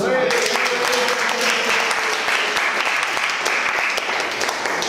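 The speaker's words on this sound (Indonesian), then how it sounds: "Tepuk tangan dulu untuk semua." Applause from a group of people for all the groups, a loud, dense clapping that rises quickly and carries on steadily for several seconds, with voices mixed in.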